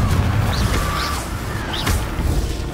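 The Confringo blasting spell goes off in Hogwarts Legacy as a couple of muffled booms with whooshing bursts over a dense game soundscape, moderately loud and close.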